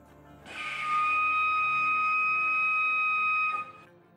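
A walrus's steady high-pitched whistle, loud and clear, held for about three seconds after a breathy onset, then stopping abruptly.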